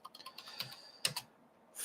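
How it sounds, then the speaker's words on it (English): Someone types into a search bar on a computer keyboard, a close, quiet run of crisp key taps in an uneven rhythm, with a couple of louder clicks and a brief pause before typing resumes. "just simply typing in the search bar"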